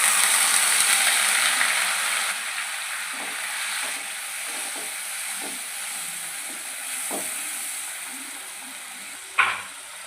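Onion puree frying in hot oil with cloves, cardamom, cinnamon, cumin and turmeric for a fish curry, giving a steady, fairly loud sizzle and hiss throughout with a few soft stirring knocks and a brief clatter near the end.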